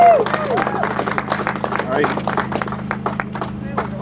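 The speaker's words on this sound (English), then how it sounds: "So round of applause for him on that" A crowd at a motor club hillclimb awards gives a dense, steady round of applause for the winner, close and loud, mixed with whoops, cheers and a brief spoken word.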